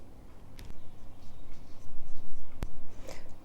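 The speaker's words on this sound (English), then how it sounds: "I will start on the upper arch to draw the brows in" A brow pencil is drawn across eyebrows, giving soft, close scratchy strokes with a sharp tap partway through.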